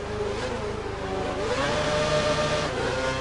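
An F1 race car in the F1 2012 game at Korea International Circuit, Yeongam, drones with a whirring engine whose pitch climbs steadily as it accelerates, over constant track noise.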